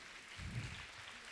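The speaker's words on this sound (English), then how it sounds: "Please give a huge round of applause for Dia S. Raj for this amazing tapestry." Applause from an audience at a school class assembly, heard faintly as a short, soft burst of clapping that swells briefly and stays distant and low in level.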